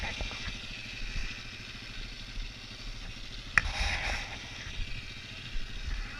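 An ATV engine runs steadily at low revs while creeping over a rocky trail at Poughkeepsie Gulch, with a brief louder clatter midway and voices speaking over the rumble.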